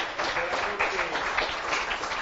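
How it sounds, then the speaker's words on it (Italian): Crowd applause for Franco Tessarolo at a local cycling grand prix event, a dense, steady wash of clapping, somewhat distant, with voices mixed in. "Un applauso a Franco Tessarolo che è qua, dai."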